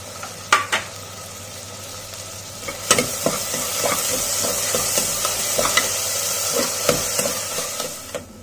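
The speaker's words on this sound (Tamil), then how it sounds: "இப்போ வெங்காயம் நல்லா வதங்கிடுச்சு." Onions and curry leaves sauté in a pan for chicken thokku, giving a steady loud sizzle broken by sharp clinks and scrapes of a spoon stirring at irregular moments.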